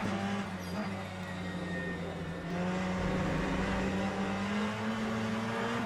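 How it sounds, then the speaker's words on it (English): A race car engine in the sim racing game Le Mans Ultimate drones and revs in first gear, a sustained buzzing note that climbs steadily in pitch over several seconds. "First gear revving."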